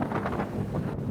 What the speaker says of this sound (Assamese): প্ৰচণ্ড ধুমুহাত ব্ৰহ্মপুত্ৰত আবদ্ধ হৈ পৰিছে যাত্ৰীবাহী নাও